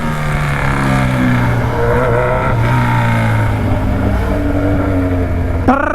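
A motorcycle fitted with a loud aftermarket exhaust revs at close range, a steady heavy drone with rising and falling engine tones that ends in a sharp jump in pitch.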